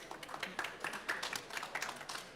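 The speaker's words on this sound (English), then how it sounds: "Let's get maybe another round of applause." Audience applause at a COP29 panel event, a run of moderately faint, scattered claps lasting a couple of seconds without anyone speaking over it.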